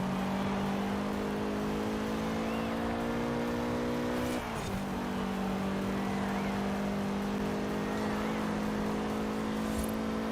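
A car laps a circuit in Forza Horizon 4, its engine holding a steady high drone close up, with a brief dip and shift in pitch partway through before settling into a sustained whine.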